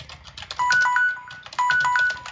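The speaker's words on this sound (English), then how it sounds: "Shut up, phone!" A phone rings in two bursts of bright electronic warbling tones, each lasting under a second, with a softer pause between them, fairly close and loud with no voices over it.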